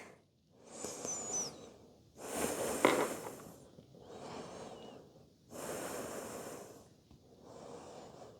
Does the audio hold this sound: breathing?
yes